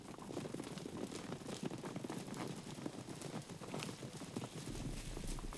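Rapid hoofbeats pound in a quick, uneven rhythm, a horse galloping over soft ground amid a busy wash of noise.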